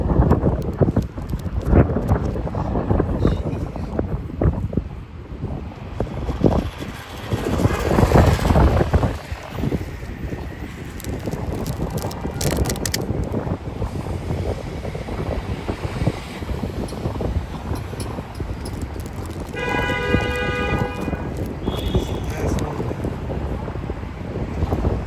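Gusty wind buffets the microphone on an Upper East Side street in New York, a loud, steady roar with passing traffic rumble and brief tonal sounds, carrying on without speech.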